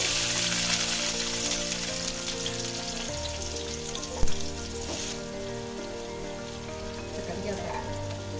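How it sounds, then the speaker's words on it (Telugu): Oil sizzles and crackles steadily in a pan as onions fry for stuffed brinjal masala curry, a dense hiss with a sudden clatter midway and a faint hum underneath. "లైట్గా నూనెలో ఫ్రై కానిద్దాం"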